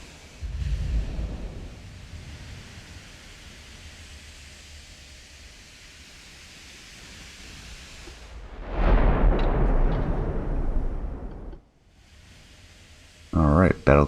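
11-inch guns of the battlecruiser Zealous in the naval video game Ultimate Admiral: Dreadnoughts: a deep booming salvo with a rolling rumble, over low steady noise, with a voice talking near the end.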